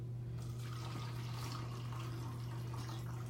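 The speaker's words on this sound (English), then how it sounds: "I'm going to take my funnel and carefully try to pour it inside the spray bottle." White Lightning cleaner pours through a funnel into a spray bottle, a soft, steady liquid trickle heard close and quiet over a low constant hum.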